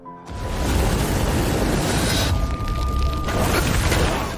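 A thrown explosive going off in a film scene: a sudden loud blast that swells into a sustained rumbling roar, with a thin ringing tone running through it. No speech.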